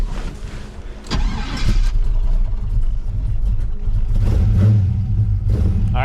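A vehicle engine starting after drawing fuel, a quiet struggling crank that catches around the one-second mark and settles into a loud, steady rumbling run close by.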